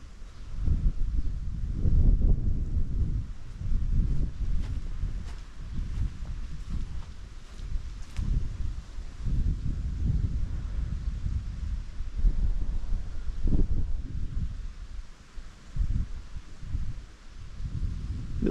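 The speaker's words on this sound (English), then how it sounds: "A little bit windy today, so we might have a little bit of background noise on the camera." Steady low rumbling wind buffeting the microphone, continuous throughout with gusts rising and falling, no voices.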